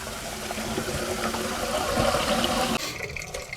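Grey water drains from an RV holding tank through a dump hose, a steady rushing, gurgling flow that cuts off abruptly near the end, leaving a quieter trickle.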